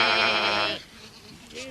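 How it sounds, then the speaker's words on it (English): A cartoon sheep gives one drawn-out, wavering bleat that ends abruptly, followed by a brief quieter stretch. "Because it's a really big sheep."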